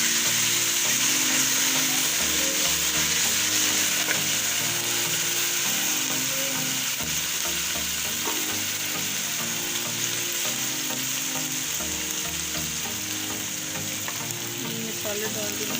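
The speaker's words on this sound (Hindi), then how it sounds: "हम लहसुन अदरक का पेस्ट डाल देंगे। ये सब्ज़ मिर्ची डालती हूँ।" Garlic ginger paste and green chilies fry in a hot pan for a chicken neck curry, giving a loud, continuous sizzle with scraping and stirring noises throughout.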